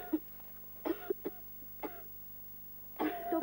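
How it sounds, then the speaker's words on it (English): A girl coughs in several short, separate bursts, some in quick pairs, with a stronger cough at the end, against a quiet low hum. "Stop coughing"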